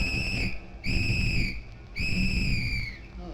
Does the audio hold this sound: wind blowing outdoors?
no